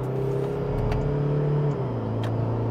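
A Toyota Fortuner GR Sport's 224-horsepower engine revs in second gear with a close, steady droning note that climbs, then drops as the gear changes partway through.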